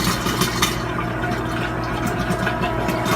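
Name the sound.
pouring used engine oil into gallon containers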